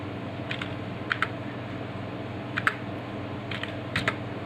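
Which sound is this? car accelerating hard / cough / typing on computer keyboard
typing on computer keyboard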